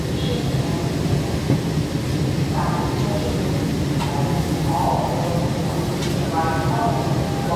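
An MBTA Green Line CAF Type 9 light rail train rumbles and rattles steadily along the C Branch toward Cleveland Circle, heard from inside the car, while an onboard announcement voice speaks over the noise.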